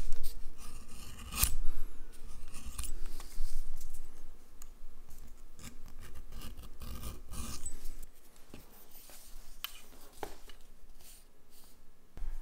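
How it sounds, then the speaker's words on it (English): French skiver thinning and bevelling the edge of a thick leather strap: irregular rasping and scraping strokes, close and dry, with a few sharper clicks between passes and no voice. "I'm gonna take my French Skiver and just thin this down and create a little bevel here"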